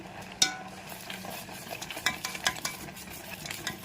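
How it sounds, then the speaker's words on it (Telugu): A ladle stirs jaggery into simmering milk for a traditional festival sweet. Soft scraping and light clinks of the ladle against the pot repeat in an irregular rhythm over a faint bubbling simmer. "నేను ఇదే గరిటెతో బెల్లం వేసుకుంటాను"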